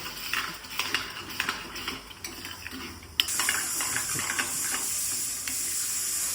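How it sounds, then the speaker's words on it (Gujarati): A spoon clinks and scrapes in a pan while yogurt is stirred into green turmeric curry. The scraping and tapping come close up at first, then give way to a steadier, brighter sizzling hiss. No one talks. "આપણે બરાબર મિક્સ કરી લેવાનું છે આ રીતે"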